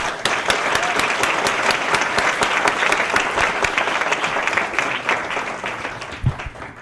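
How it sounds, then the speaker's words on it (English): Audience applause after a speech at a hall event, dense sustained clapping from a large crowd at steady volume, tapering slightly toward the end. "Let's please give those words one more round of applause."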